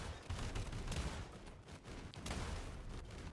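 Grenade launcher firing in the video game SULFUR, a series of loud, punchy blasts and bursts in quick succession with rumbling low booms, no talking.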